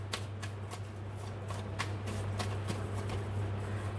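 Tarot cards shuffled in a steady run of soft riffling flicks with sharper snaps, close and moderately quiet over a constant low hum.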